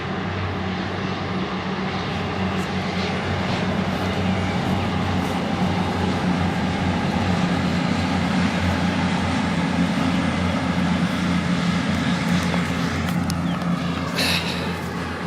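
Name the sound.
passenger train passing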